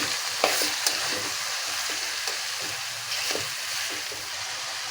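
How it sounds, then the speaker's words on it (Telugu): Drumstick pieces and ridge gourd frying together in a curry pan: a steady close sizzle with a few clicks and soft scraping from stirring, no voices. "ఇందులోనే మునక్కాయలు బీరకాయ ముక్కలు కూడా వేసేసుకున్నాం చూడండి చూడండి మొత్తం వేసుకున్నాం కదా ఒకసారి కలుపుకుందాం"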